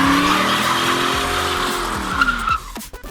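Rear tires of a V8 Ford Mustang GT squeal loudly in a sustained skid over a deep engine roar, the screech rising and then breaking off near the end.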